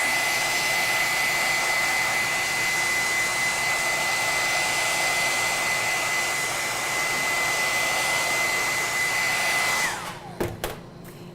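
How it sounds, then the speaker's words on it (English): Hair dryer blowing steadily to warm chocolate ganache moulds, a constant whooshing hum with a whine that drops away as it switches off near the end, followed by a few light clicks. "We use our very expensive hair dryer here."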